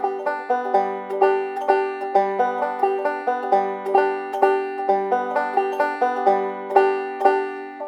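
A banjo plays a basic rolling backup pattern in waltz time, with crisp plucked notes in a steady three-beat roll and pinches of the first and fifth strings, clear and close, alone with no talk.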